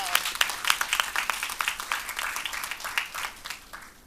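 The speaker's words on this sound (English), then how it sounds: "How about a big round of applause for Miss Cookie Rutledge?" An audience claps at a middle school speech contest, a lively burst of many hands clapping close by that continues for about four seconds and then begins to thin.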